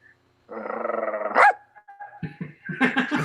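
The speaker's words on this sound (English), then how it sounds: "Get him to bark here soon." A dog barks close by: one drawn-out, tonal bark or howl, then a quick run of short, sharp barks.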